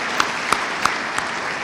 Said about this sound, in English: also to ask you a big clap for the speakers